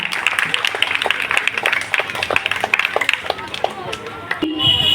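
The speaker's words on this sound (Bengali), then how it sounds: "জোরে করতালি হয়ে যাক" Audience clapping at a football coaching center felicitation ceremony, a sustained patter of many hands for several seconds before fading out, fairly close.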